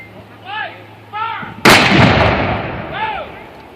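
A Civil War howitzer fires an 8.9-pound explosive shell: one sudden, loud boom that rolls off in a long, fading rumble, with birds chirping lightly before and after.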